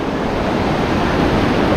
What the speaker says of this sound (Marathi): जबरदस्त असा नदीचा प्रवाह आहे